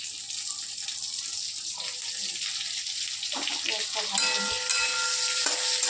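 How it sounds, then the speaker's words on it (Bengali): Onion, capsicum, tomato, green chili, ginger and garlic fry for soybean chilli, giving a steady close sizzle with stirring scrapes that grows a little busier near the end, while a voice talks over it. "পেঁয়াজ, ক্যাপসিকাম, তারপরে এটা টমেটোর, লঙ্কা, কাঁচা লঙ্কা, আদা, রসুন তো ভাজা হয়ে গেল।"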